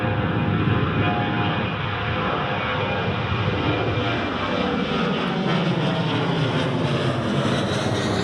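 An Emirates airliner at Newcastle International Airport gives a steady, broad jet-engine roar at moderate distance, slowly shifting in pitch as it moves.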